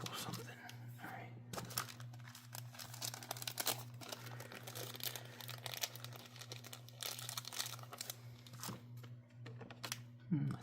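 A Pokémon Charizard tin is opened with soft tapping and crinkling, quiet close handling clicks and rustles over a low steady hum, with faint soft-spoken talk.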